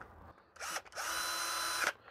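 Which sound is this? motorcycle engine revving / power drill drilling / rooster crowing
power drill drilling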